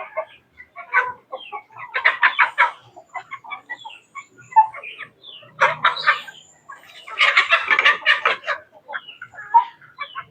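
Kabir chickens clucking and calling in short bursts while feeding on fermented coconut pulp, close and clear, with quick peck-like ticks between the clucks.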